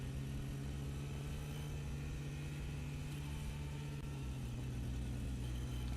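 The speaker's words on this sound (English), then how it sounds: "the engine doesn't sound completely smooth" A Ferrari Formula 1 car's engine runs on partial throttle during French Grand Prix practice, a steady low droning hum that sounds slightly rough and uneven, continuous and fairly close for the whole stretch with no talk.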